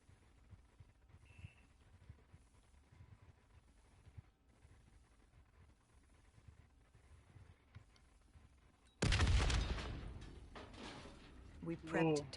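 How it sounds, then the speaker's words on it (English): An explosion in the video game Black Ops 3 erupts suddenly as a loud, close blast that rumbles and fades, following a stretch of quiet talk and soft background noise. "The explosion blocked our path"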